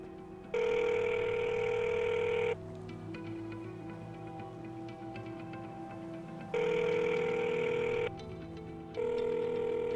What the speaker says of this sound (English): Answer your fucking phone.